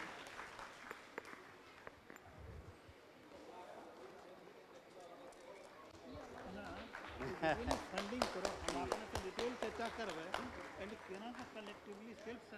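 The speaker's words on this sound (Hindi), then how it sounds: "इनके इन विचारों के लिए जोरदार ताली हो जाए" An audience at a gathering breaks into applause, a dense rush of many hands clapping that builds and grows louder, following a stretch of speech from a single voice.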